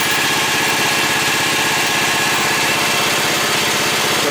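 A John Deere Z445 riding lawn mower engine runs steadily and loudly up close, with a constant rhythmic throb and no pauses or talk.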